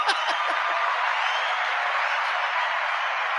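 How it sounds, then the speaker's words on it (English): Studio audience on a Portuguese morning show claps, a steady even patter of applause throughout, with a few faint chuckles at the very start. "Let's give them a nice big round of applause"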